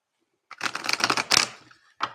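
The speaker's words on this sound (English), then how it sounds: "Let's throw you some cards, Puck Elf." Tarot cards are shuffled and dealt, a brief burst of crisp riffling and flicking followed by a short pause and one final snap, close and clear with no talk.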